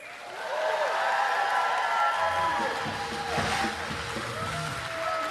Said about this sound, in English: Vice President Kamala Harris walking on stage to a roaring applause Wednesday afternoon